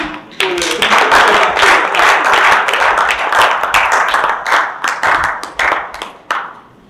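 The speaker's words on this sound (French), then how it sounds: "On l'applaudit." An audience applauds a speaker after a short public speech, loud close clapping from a small group that swells quickly, holds for several seconds, then thins into a few scattered claps.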